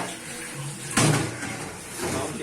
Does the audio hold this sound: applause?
no